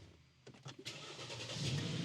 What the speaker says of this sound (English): You can start the car now.